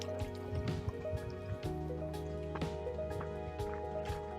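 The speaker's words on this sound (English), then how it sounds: "Let's check the spring here. See how full it is. It's flowing." Spring water flowing steadily along a hiking trail, a soft continuous trickle with small drips and splashes, fairly close and alone, under a faint steady background hum.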